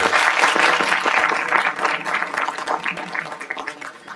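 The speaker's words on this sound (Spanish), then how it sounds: "Un aplauso." Audience applause welcoming a speaker at a university talk, loud dense clapping at the start that thins and tapers into scattered claps.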